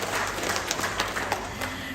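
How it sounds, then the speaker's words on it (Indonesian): An audience applauding, a dense, continuous clatter of many hands with scattered sharper claps, moderately loud and steady throughout. "Tepuk tangan untuk panjenengan semua"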